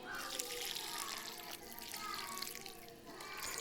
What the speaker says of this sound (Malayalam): നട്ട് കഴിഞ്ഞ് വെള്ളം ഒഴിച്ച് കൊടുക്കണമല്ലേ.